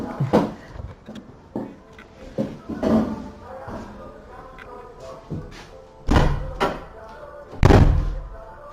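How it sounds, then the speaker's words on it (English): A door is pushed shut indoors at a yeshiva, with several thuds and a louder slam near the end, while people talk over it. "let me just close the door."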